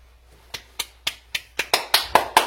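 Nine sharp hand claps in steady rhythm, starting sparse and coming slightly faster and fuller toward the end, close and clear over a quiet background.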